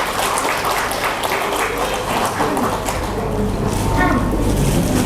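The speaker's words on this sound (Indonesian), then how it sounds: "Berikan tepuk tangan untuk anak kita semua." Steady crowd clapping at a school Quran completion ceremony fills the whole stretch, a dense wash of hands with no pauses, fairly loud and even throughout.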